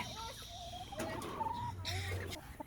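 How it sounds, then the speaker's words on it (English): A hen in a chick-rearing setup gives soft, drawn-out clucks and warbling calls at close range over a low background hum, with no talking. "She's a good chicken."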